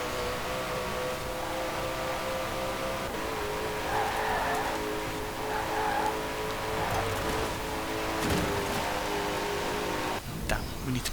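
Racing cars in Forza Horizon 4 drone steadily, with engine whine and tyre noise sustained at a constant level and a few brief clunks near the end, while a voice talks over it.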